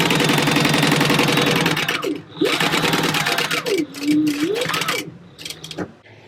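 A sewing machine stitches through stacked fabric layers for a wall panel, a loud rapid mechanical rattle for about two seconds, then shorter stop-start bursts with pauses between them.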